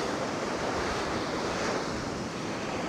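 North Sea waves roll onto the beach at Anderby Creek in a steady, loud wash of surf with wind noise and no voices.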